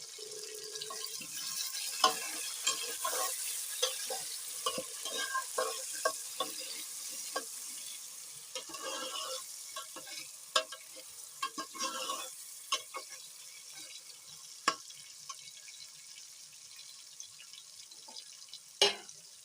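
Tomatoes frying with golden cumin in a pan for fish curry, a soft steady sizzle with scattered clinks and stirring scrapes, fairly quiet and with no voices.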